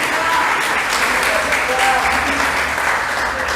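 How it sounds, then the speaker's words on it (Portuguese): An audience in a Portuguese-speaking church gathering breaks into steady applause, a dense patter of clapping that holds at even loudness for a few seconds. "Vamos dar uma salva de palmas para Ruth."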